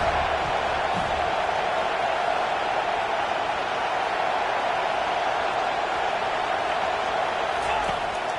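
A packed football stadium crowd at a Florida State versus Oregon game roars in a dense, sustained wall of cheering noise, loud and unbroken throughout.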